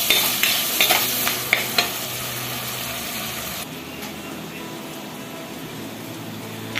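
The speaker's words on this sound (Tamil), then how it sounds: "அடுத்து ஒரு தக்காளி கட் பண்ணியிருக்கேன், அதையும் போட்டுக்கலாம். நல்லா இதை இங்கேருந்து வதக்கிக்கலாங்க." Chopped tomato sautéing in a clay pot, a steady frying sizzle with scraping stir strokes near the start, settling into a softer continuous hiss with no talking.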